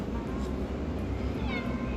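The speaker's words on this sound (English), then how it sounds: "We had to come say goodbye to the cat." A cat meows once or twice over a steady background hum, with a faint voice nearby.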